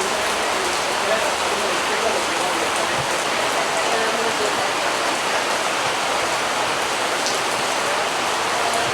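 Steady, dense rain pours down on Umbrella Street, a constant hiss of drops striking the umbrellas and pavement overhead and around, loud and unbroken throughout.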